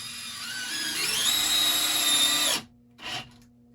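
A Dewalt DCD703F1 compact drill spins up to a high, rising whine while countersinking screws, then stops abruptly, followed by one brief burst of spinning.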